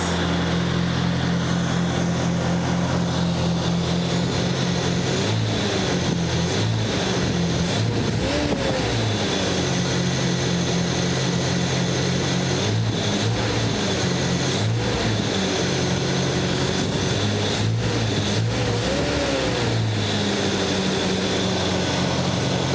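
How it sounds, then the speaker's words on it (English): Nissan 200sx turbo engine idling with its power steering pump running, a steady droning hum with a faint whine and slight periodic pitch wobbles, loud and close throughout. "I hear the power steering pump."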